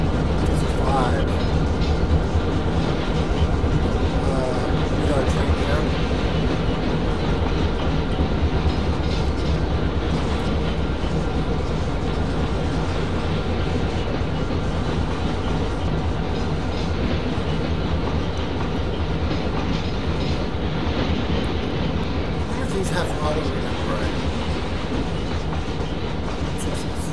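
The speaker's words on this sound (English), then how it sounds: "And there's another train we're going to be running into" Steady rumble and rhythmic clatter of a train running on rails in the video game Trainz: A New Era, continuous throughout with a voice talking over it.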